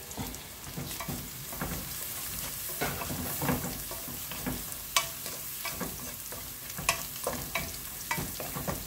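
Cumin and other spice powders sizzle in hot oil in a pan while being stirred for vegetable khichuri, with a steady, close frying hiss and scraping strokes throughout.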